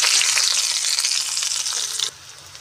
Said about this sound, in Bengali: পেঁয়াজটা হালকা ভাজা হয়ে এসছে